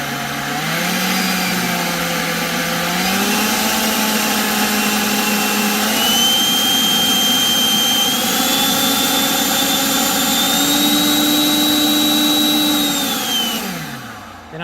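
A steady, whining motor hum from a 40-volt, 650 CFM cordless leaf blower running at its lowest of six speeds, loud and close, with a slight pitch shift before it winds down at the end.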